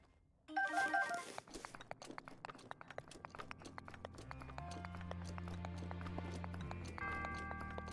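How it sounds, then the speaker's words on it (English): Link's footsteps in a Zelda video game clack quickly and sharply on a hard surface, a rapid run of crisp clicks layered over sustained game music and tones. "Sounds so clackety. Link's footsteps on the material here."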